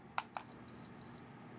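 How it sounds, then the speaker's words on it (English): A Lasko tower heater's control panel, an early-to-mid 2000s unit, gives three short, thin electronic beeps in an even rhythm after two soft button clicks, close and fairly quiet in a still room. "Beeps 3 times."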